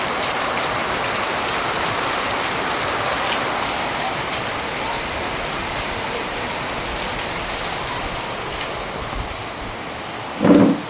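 First monsoon rain pours down steadily and close by, a dense, even hiss of drops hitting surfaces that holds for the whole stretch, with one brief louder knock near the end.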